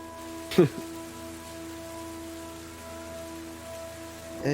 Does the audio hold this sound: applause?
no